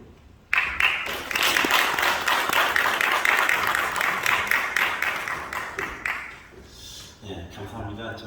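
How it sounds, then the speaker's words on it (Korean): A church mission seminar audience claps to welcome a pastor to the lectern. A sudden burst of applause holds for about six seconds, then fades and gives way to light room noise and a voice. "나오시는데 박수로 좀 맞이해 주시면 감사하겠습니다"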